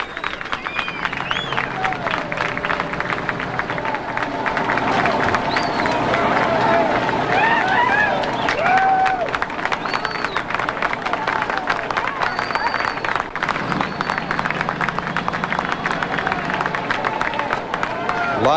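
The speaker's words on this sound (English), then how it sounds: "There's clapping." A crowd applauds and cheers outdoors in Midland, Texas as baby Jessica McClure is lifted from the well, sustained clapping mixed with excited voices and general hubbub throughout.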